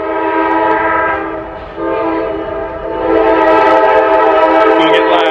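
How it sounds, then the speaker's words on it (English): A train sounds its horn in a long, loud, sustained blast that dips briefly and then returns even stronger, with rumbling and a faint clatter of rail cars underneath. "there's a train coming, so you might actually hear the bells going off."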